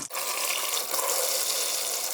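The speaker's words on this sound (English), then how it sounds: "The same colander we used for the draining the meat, we'll use for draining the potatoes." Boiled potatoes are drained into a colander in a kitchen with concrete countertops, producing a steady, loud rush of pouring water that continues without a break.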